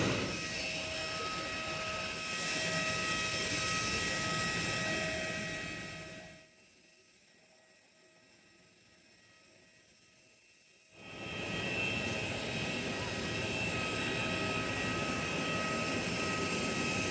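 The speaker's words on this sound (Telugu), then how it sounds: "ఇప్పుడు మనం ఎక్కబోయే ఫ్లైట్ ఇది." Engine roar from an airliner parked on the apron before boarding, a steady loud drone that drops away for several seconds in the middle, then returns at full strength.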